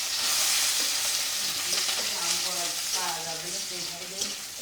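Vegetable stalks fry in hot oil in a wok, a steady close, loud sizzle with stirring clatter, while someone talks over it for much of the time.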